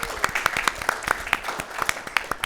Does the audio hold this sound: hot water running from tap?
no